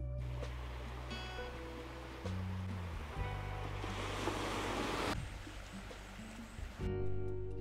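Sea waves and surf wash in a broad rushing roar on a foggy coastline near a cape, with one surge swelling louder before easing, and steady low rumble and wind noise underneath.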